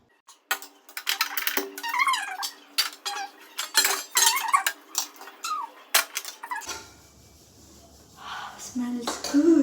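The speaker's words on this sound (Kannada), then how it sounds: "ಸೊ ಇದನ್ನು ತೆಗೆದು ಇದ್ರ ಕೆಳಗೆ ದೋಸೆಯು ಹಂಚು ಪ್ಯಾನ್ ಇಡ್ಬೇಕು." A metal dosa pan is set under a dum biryani pot at home, a few clanks and scrapes of metal cookware close by, with a person speaking over the handling.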